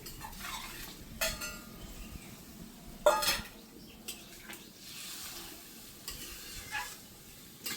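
Pieces of river fish and potato go into a hot pan of oil, setting off a low sizzle broken by a few sharp splashes and clinks near the start and middle.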